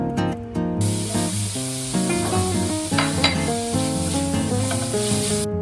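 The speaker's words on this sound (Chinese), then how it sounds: "半条红萝卜爆丝。" Shredded carrot stir-fries in a wok for a Hakka jicama dumpling filling, giving a continuous broadband sizzle and hiss under steady background music.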